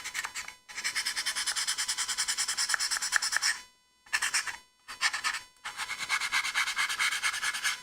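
A diorama piece is rubbed down by hand in long, steady scratchy strokes, a dense rhythmic rasp broken by a few short pauses.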